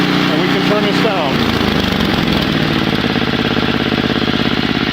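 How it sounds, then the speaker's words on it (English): A snowblower running with its auger spinning: a loud, close, steady small-engine drone with a rapid rhythmic chatter that picks up partway through, with talking over it. "the auger starts spinning up front, and where there's snow in front of us, we'd be blowing it right now"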